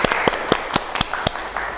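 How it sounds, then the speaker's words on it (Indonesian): An audience of teachers in a school setting claps in a sparse, uneven scattering of distinct hand claps, moderately loud against a quiet room. "Boleh tepuk tangan dulu?"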